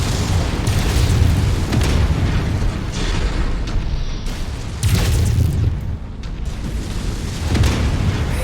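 Loud booming blasts from a destroyed Spider mech in MechWarrior 5: Mercenaries, a dense roaring explosion with a second heavy burst midway, rumbling continuously without any speech.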